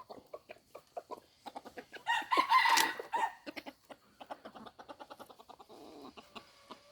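A wild jungle fowl crows once in a short raspy burst amid soft, rhythmic clucking and pecking sounds from nearby birds.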